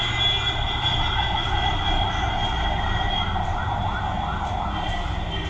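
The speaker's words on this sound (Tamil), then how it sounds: "இந்த ஆம்புலன்ஸ் சவுண்ட் இருக்குது பார்த்தீங்கன்னா இருபத்தி நாலு மணி நேரம் இந்த ரோட்டில் கேட்டுக்கிட்டே இருக்கும்" A steady, wailing ambulance siren rises and falls continuously, loud and close, over a low rumbling road hum with no talking.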